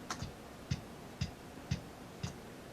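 A soft, punchy programmed kick drum from MT Power Drum Kit 2 in Reaper thumps on a steady beat, five evenly spaced hits with faint clicky tops, alone and fairly quiet.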